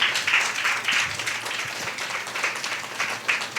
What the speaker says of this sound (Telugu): గట్టిగా చప్పట్లు కొడదాం ఒకసారి